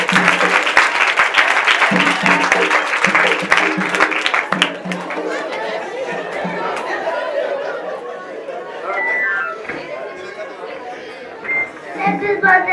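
Applause breaks out in a church, with clapping mixed into lively crowd chatter and voices, strongest early and then easing into murmuring talk.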